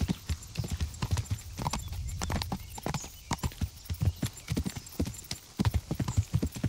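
A horse's hooves clip-clop in the medieval video game Kingdom Come: Deliverance, with steady, close, rhythmic hoofbeats and no voices over them.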